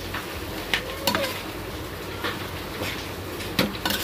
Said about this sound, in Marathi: आता हे मस्त एकजीव करून घ्यायचं आहे